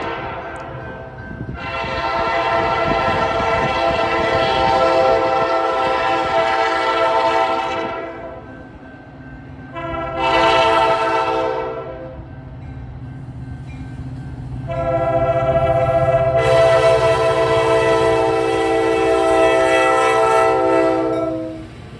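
A train passes with its horn blowing in three blasts: a long one, a short one, then another long one. Loud, harmonic horn notes ride over the continuous rumble of the rolling train.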